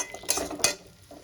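Fried potatoes are stirred with spices in a pan, giving two quick scraping clatters of a utensil against the metal over a faint background, with little sizzle.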